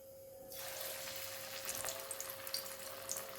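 Sweet corn pakoda batter dropped into hot oil in a home kitchen, a steady close crackling sizzle rising suddenly and continuing with small pops throughout, no voices.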